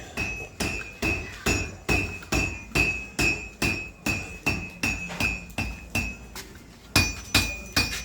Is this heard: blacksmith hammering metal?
yes